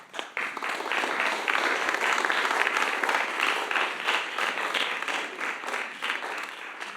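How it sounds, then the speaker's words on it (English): An audience at a choreography panel on Merce Cunningham's legacy gives a warm round of applause welcoming the artists, many hands clapping in a full, sustained roar that swells quickly after a sparse start and tapers slightly toward the end. "Please join me in a warm round of applause to welcome Clare and Rashaun and our artists."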